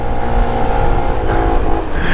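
A Piaggio scooter, still like new after 19,000 km, has its engine running and revving steadily and close by for about two seconds, with a slight rise in pitch midway and no talk over it.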